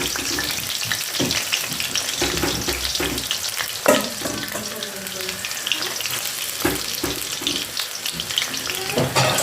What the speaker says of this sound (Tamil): பொரிச்செடுத்திக்கிறோம்.